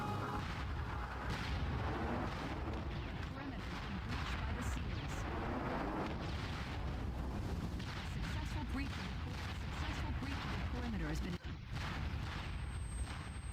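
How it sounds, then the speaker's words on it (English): Grenade explosions and gunfire in the SOCOM II video game, with heavy booms rolling over steady dense battle noise that stays loud throughout, while voices talk underneath. "Wow, we exchanged with grenades."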